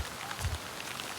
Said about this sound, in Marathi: तर किती पाऊस पडतोय बघू शकता तुम्ही.